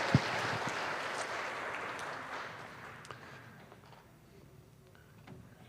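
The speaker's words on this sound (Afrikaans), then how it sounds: "kom ons gee vir die Here 'n hande klap dat jy weer vandag by ons is" A church congregation in a Sunday morning service claps, the applause loud at first and then fading over several seconds, with a voice speaking over it.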